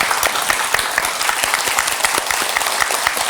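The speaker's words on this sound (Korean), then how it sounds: "우리 격려의 박수 좀 보내드리죠" Studio audience on a Korean TV talk show applauding in a steady, dense burst of clapping, close and fairly loud throughout, with no talking over it.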